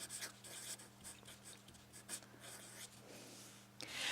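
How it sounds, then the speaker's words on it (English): Pen or marker scratching across a board during a physics lesson, a faint series of short strokes, with a low steady hum beneath. "I'm going to write a little minus there"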